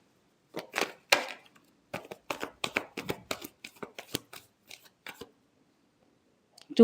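Tarot cards shuffled by hand, a quick run of crisp flicking riffles and taps, close and moderately quiet, ending in a brief pause.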